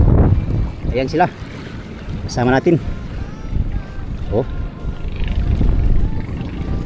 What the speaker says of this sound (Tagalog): Mahangin nga mga amigo.